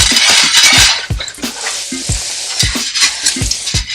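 Garlic cloves and herbs sizzle loudly in hot frying oil in a pan, a dense hiss with a spoon stirring and scraping in a quick uneven rhythm.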